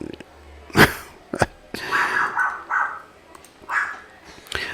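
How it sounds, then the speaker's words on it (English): A dog barks a few times in short, sharp yips nearby, with a quieter whine and some indoor background noise between them. "excuse the dog if you can hear him"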